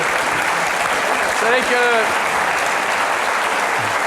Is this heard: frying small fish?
no